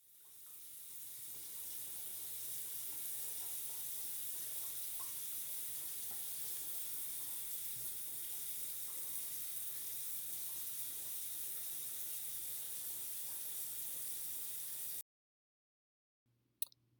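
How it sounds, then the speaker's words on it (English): Hands washed under a running sink tap, a steady close hiss of flowing water that stops abruptly near the end, followed by a couple of faint clicks. "What he did incorrectly was he did not wash his hands long enough."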